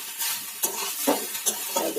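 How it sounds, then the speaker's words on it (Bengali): Chopped onions stirred into frying drumsticks and potatoes for a sour dal, with a soft continuous sizzle broken by several scraping strokes of a spatula against the pan. "এটাকে ভালো করে নাড়িয়ে নিই।"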